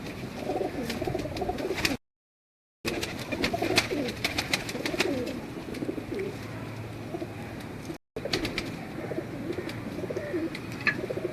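Sabz Kadi breed pigeons coo steadily in a loft, soft layered rumbling calls running almost continuously, with two brief gaps of silence.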